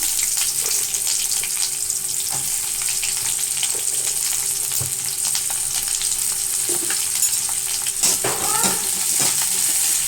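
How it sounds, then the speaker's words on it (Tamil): Onions sautéing in a pan for a chutney, a steady close sizzle and frying hiss running the whole time with occasional stirring clinks and scrapes, no talking. "வெங்காயம் நல்லா வதங்கிடுச்சு"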